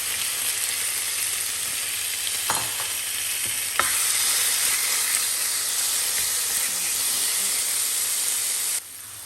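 Chicken frying side by side in a pan for a simple stir-fry chicken, a loud continuous sizzle and hiss with a few sharp clicks and scrapes from stirring, dropping off abruptly just before the end.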